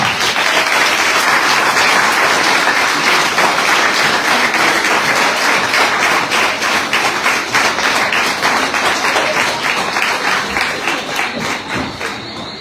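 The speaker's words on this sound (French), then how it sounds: "Mesdames et messieurs, sous vos applaudissements, Sandy Delta Swama" A crowd at a Guadeloupe cycling tour presentation applauds a junior Caribbean time-trial champion, a dense, loud, sustained wash of clapping that holds steady and thins slightly toward the end.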